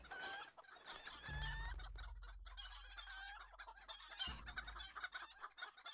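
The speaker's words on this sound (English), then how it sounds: "Say hi to the local chickens." Chickens in the video game LOTRO clucking and crowing in bursts, fairly close and clear over a low rumbling game backdrop, with no talk.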